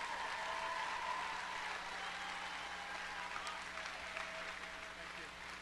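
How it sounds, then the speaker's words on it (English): Audience applause at a school Veterans Day program, a steady, fairly faint wash of clapping from a large crowd that holds evenly throughout, heard from a distance with a faint hum beneath. "come out for a round of applause"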